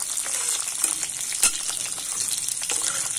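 Chopped onion frying with black cumin seeds for a radish stir-fry, a steady close sizzle broken by light scraping stirs and a sharper clack midway, no voices.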